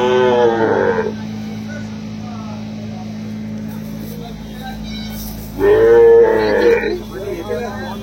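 Cattle at a bull market, with two loud, close, drawn-out moos, one at the start and another near the end, over a constant low engine-like hum.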